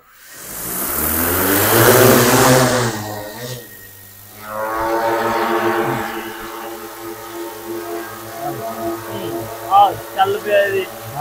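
An agricultural crop-spraying drone spins up with a rising rotor whine and loud whooshing hum, drops briefly, then lifts off into a steady droning flight that fades somewhat, while people talk nearby.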